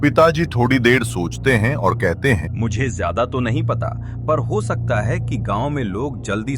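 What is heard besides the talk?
None of the usual background noises is heard.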